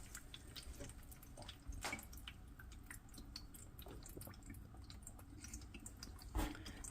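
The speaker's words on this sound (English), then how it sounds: "Can hear it draining now." Water trickles and drips steadily as it drains from a potted plant into a sink, a soft continuous draining patter with a slightly louder splash near the end.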